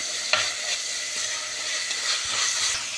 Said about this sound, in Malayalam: ഇനി തക്കാളി നന്നായി ഒന്ന് സോട്ടായി വരണം.